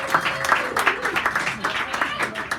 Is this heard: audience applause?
yes